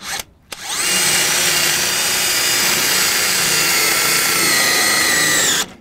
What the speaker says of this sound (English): I'm going to set the drill.